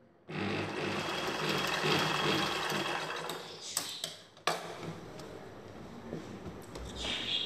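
A sewing machine runs steadily stitching the upper side of a blouse neck, a dense continuous whir that pauses briefly near the end before resuming.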